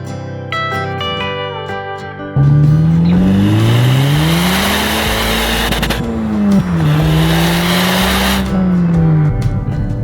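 Seat Leon car driving, its engine note rising and falling steadily in a close, loud drone that swells in pitch across the drive after a quieter opening with faint music-like tones.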